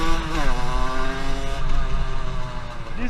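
A Rieju MRT 70 motorcycle engine with a Metrakit revs steadily up close, its pitch climbing and falling as the throttle opens and eases, loud and continuous with no talking.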